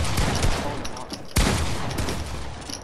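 Bursts of gunfire from a Fortnite match crackle in quick succession, with a sharp loud shot standing out midway through a dense, steady volley.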